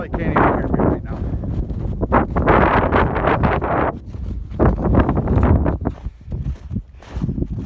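Heavy wind with snow buffets the microphone in loud, rumbling gusts up to 45 in a cow and calf yard, nearly constant with brief dips, while a voice talks underneath.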